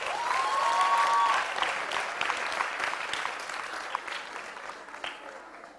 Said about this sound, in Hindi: अब तो तालियां बजा लो रे।